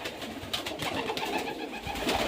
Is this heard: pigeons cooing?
yes